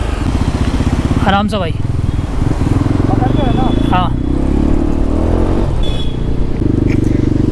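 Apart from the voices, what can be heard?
Yezdi Adventure motorcycle being ridden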